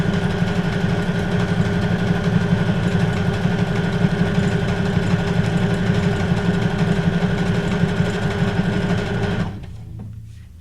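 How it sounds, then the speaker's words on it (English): A sewing machine stitches fabric flowers with a steady, fast mechanical whir close by, running evenly for nearly ten seconds before stopping abruptly. "Don't sew too fast and muck it up."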